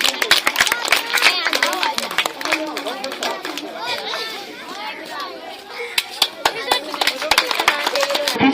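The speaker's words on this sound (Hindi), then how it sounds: "जोरदार तालियों से स्वागत करें अपने देश के राष्ट्रपति का" Crowd applause at a school Independence Day event, many hands clapping rapidly and steadily, with voices and cheering mixed in throughout.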